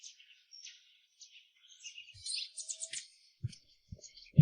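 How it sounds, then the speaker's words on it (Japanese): Small birds in a tree give scattered high, thin chirps and tweets at a moderate distance, with a few soft low knocks near the end. "わあ、木の上の鳥さえもつがいでいるというのに。"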